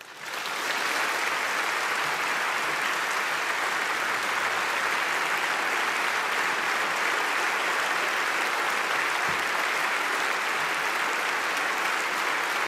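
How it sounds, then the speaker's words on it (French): Parliamentarians at the French Congress applauding a speech on abortion rights in the Constitution, a loud, dense, sustained ovation from a large hall that holds steady throughout. "sous le regard de la famille de Simone Veil, que la force de vos applaudissements pour son combat et pour sa cause tonne plus fort encore que ces insultes"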